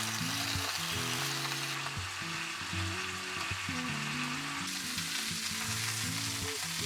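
Oxtail pieces brown in a hot pan, giving a steady close sizzle and spitting crackle with faint stirring, no voices.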